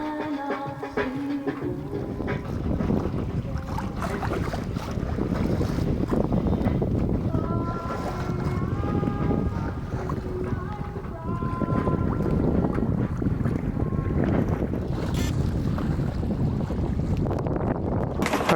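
A sailboat under sail with its engine off, on passage toward the Keys, gives a steady rush of wind and water across the whole stretch, with a strong wind buffeting the microphone and faint music playing underneath.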